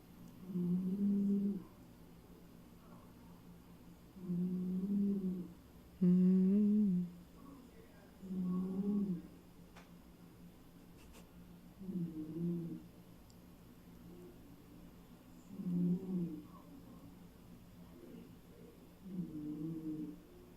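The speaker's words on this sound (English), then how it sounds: "Let's listen to the kitty snore." A pet cat snores close by in a quiet room, a long series of low, droning, almost mooing breaths repeating every three to four seconds with quiet pauses between them and no talking.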